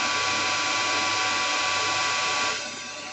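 Lathe running while turning down the diameter of a metal bushing, a steady close whirring hum with a tonal whine that drops slightly in level near the end.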